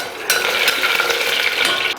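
Continuous loud crackling and popping of spices and curry leaves spluttering in hot oil for rice upma, with a few sharper bursts, close up and with no voices.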